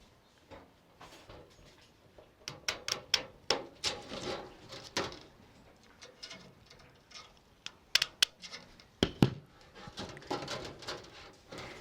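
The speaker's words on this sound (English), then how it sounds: "So I'm just going to come through and snip." Metal snips cut through wildfire defense metal mesh for a home vent in a series of sharp, close clicks and snaps, irregular at first, then bunching into quick bursts, with no talking.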